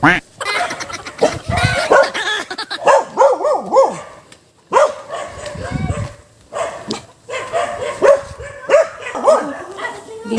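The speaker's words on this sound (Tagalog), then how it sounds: "Nakatakot naman itong mga aso." Dogs bark repeatedly and excitedly, some yips and whimpers mixed in, while people talk over them close by.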